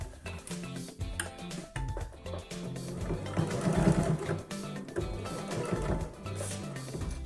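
A sewing machine runs in short bursts while stitching a trouser hem, the whir swelling and stopping as it reverses a few stitches, close and fairly quiet.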